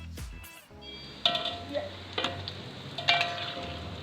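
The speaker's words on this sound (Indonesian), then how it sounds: "kita masukkan tempe dan goreng hingga garing ya" Tempeh fries in hot oil in a home kitchen, a soft continuous sizzle punctuated by a few sharp clinks and scrapes of a utensil against the pan, close and fairly quiet, with no speech.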